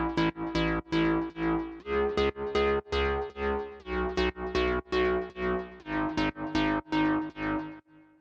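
A synth bass preset plays a steady pattern of punchy plucked notes in FL Studio, with regular attacks and quick decays at a moderate level, alone with no voices.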